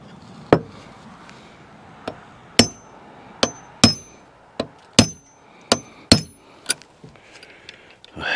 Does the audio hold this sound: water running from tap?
no